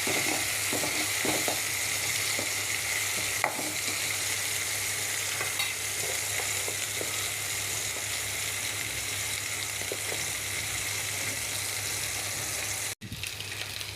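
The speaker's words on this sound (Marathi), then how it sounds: "हे बघा आता मी कांदा टाकला आहे. तो लाल ब्राऊन होसपर्यंत आपण आता तेलामध्ये तळूया." Chopped onion frying in hot oil in a pan for pav bhaji, cooking until red-brown. A steady, dense sizzle and crackle runs throughout, with occasional soft stirring scrapes, close and continuous.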